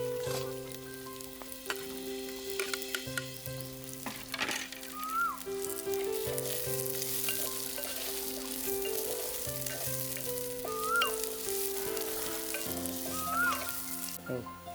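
Spices and chopped onion sizzle in hot oil for a veg Manchurian gravy, a steady close frying hiss with occasional stirring clinks and scrapes, with no talking.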